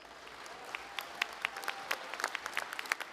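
Graduating students at a university commencement applauding, a moderate crowd of hands clapping with many distinct sharp claps popping out of a steady clatter, fairly close and lively throughout the short burst.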